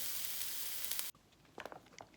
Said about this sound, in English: I'm going to add some minced garlic. Stir that around, saute that for a little bit.